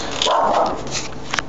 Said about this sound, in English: It's the next door neighbor's dog who doesn't like role-playing games.